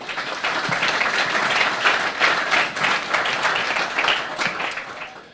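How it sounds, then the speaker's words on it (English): Audience at an RSM alumni day gathering in Rotterdam giving a warm round of applause, dense sustained clapping close and fairly loud, fading slightly at the end. "a warm round of applause for the Dean of Rotterdam School of Management"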